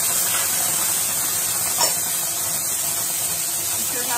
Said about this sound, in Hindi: अब मेरा तेल गरम है, तेल में मैं डालूंगी जीरा और जीरे के साथ ही डालूंगी अपनी प्याज